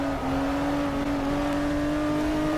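Steady, sustained engine drone of a Porsche 908 race car in the GTR2 racing game, a constant high-revving tone held at near-even pitch throughout with no other sounds.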